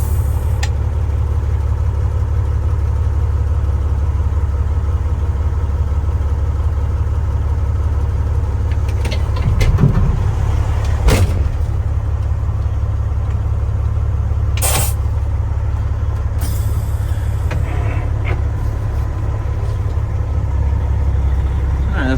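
Freightliner truck with a Cat engine and a manifold leak at cylinder 6 settles into a loud, steady diesel idle, with a low rumbling drone throughout and a few sharp clicks and clunks.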